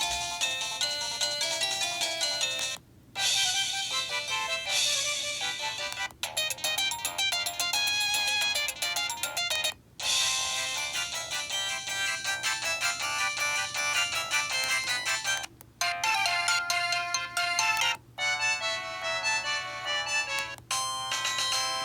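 A bright electronic ringtone from a 2003 LG Cyon SD1600 mobile phone plays a looping beeping melody, repeating with brief pauses between cycles.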